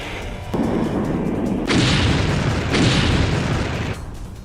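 Heavy booming blasts from Russian missile strikes on Ukraine, several broad rumbling bursts in sequence, loud and sustained with rolling low-end energy and no voices.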